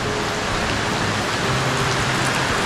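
Heavy rain pours down steadily and close by in the rainy season, a dense unbroken hiss of drops drumming on surfaces with no voices over it.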